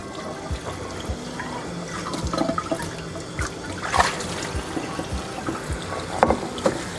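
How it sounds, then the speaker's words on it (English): Cold tap water runs steadily over beef in a colander, a continuous splashing and trickling stream with occasional sharper spatters, fairly quiet and without talk. "And now we're just gonna rinse the beef under running cold water"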